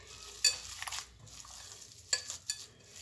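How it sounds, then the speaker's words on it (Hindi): Spices, chopped coriander and other ingredients being mixed for chicken chatkhara kabab in a bowl, a soft wet stirring and squishing with a few sharper clinks, close and alone. "सभी इंग्रेडिएंट्स हम मिक्स कर लेंगे।"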